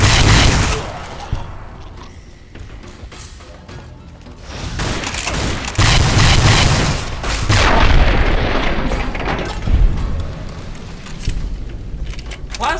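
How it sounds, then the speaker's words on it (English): Plasma gun fire in Fallout New Vegas, loud booming discharges and blasts recurring in irregular bursts over a busy combat din, with a few sharp impacts standing out. "Plasma guns aren't usually my thing, but this is working out pretty well, honestly."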